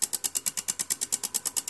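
A small brushless electric motor turns slowly, giving off a quick, even train of faint ticking pulses, about nine per second, close and alone.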